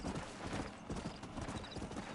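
Hooves of a horse clip-clop in Red Dead Redemption, a quick steady rhythm of game-audio hoofbeats, fairly quiet, with a brief whinny-like tone in the mix.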